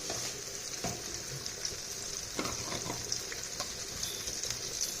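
Mustard seeds crackle and splutter in hot oil for a Tamil mushroom kurma, a steady dense sizzle with scattered sharp pops throughout, close and fairly quiet.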